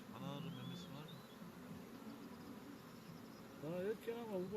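Honey bees hum around a hive at an apiary in a steady, close swarm buzz, with a faint voice speaking briefly under it near the end.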